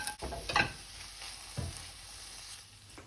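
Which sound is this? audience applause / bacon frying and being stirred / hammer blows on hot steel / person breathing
bacon frying and being stirred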